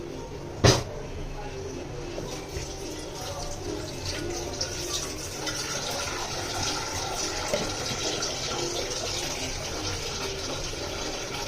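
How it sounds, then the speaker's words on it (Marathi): Water pours steadily into a pot of lightly sautéed rice for cooking, a soft continuous splashing gush that follows a brief knock at the start, with someone talking over it. "आणि पाणी टाकते."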